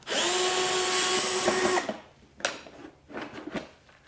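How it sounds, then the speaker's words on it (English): A pocket driver runs loud and steady for almost two seconds on T30 Torx screws in the access hatch of a DeWalt DW735 planer, then stops, followed by a few sharp clicks and handling knocks. "Remove the 4 T30 Torx screws holding the access hatch in place."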